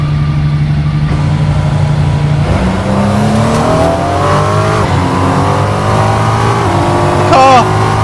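A Ferrucci 296 GT3 race car engine in a racing video game revs up through rising gear pitches, loud and close, with a sharp whine near the end.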